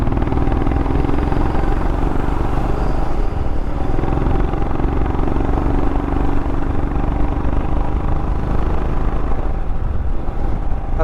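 Royal Enfield Himalayan motorcycle riding between Athirapally and Tenkasi, its engine drone and wind rush filling a steady, loud, unbroken roar with no voices.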